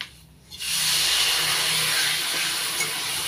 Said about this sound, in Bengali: অল্প জল দিয়ে কষিয়ে নেব।